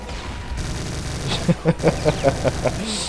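Gunfire from Brutal Doom, with a rapid string of about seven sharp, evenly spaced blasts over steady game background noise, and faint speech at the start.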